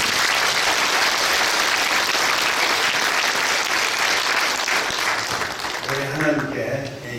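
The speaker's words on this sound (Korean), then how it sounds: "우리 하나님께 영광의 박수를 한번 드리겠습니다." A congregation at a New Year church worship service applauds together in loud, dense clapping that sustains for several seconds, fading as a speaking voice comes in near the end.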